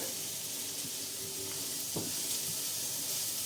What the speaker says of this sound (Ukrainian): Взяла на пательню, віляла дві ложки чи три олію